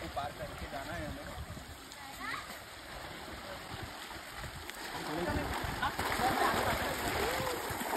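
A river running full of water rushes and splashes in a steady, moderately loud stream, with someone talking over it.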